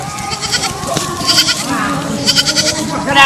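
A goat bleats repeatedly and loudly at close range outdoors, with voices shouting and talking around it.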